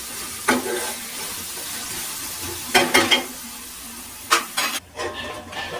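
Onions with turmeric frying slowly on low heat for mutton keema, a soft background sizzle broken by a few brief bursts of stirring and scraping in the pan, with no talking.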